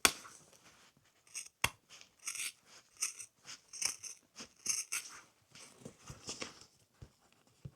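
Scissors snip in a series of short, crisp cuts through vinyl or leather upholstery fabric on a car door panel, close and quiet, with brief pauses between strokes.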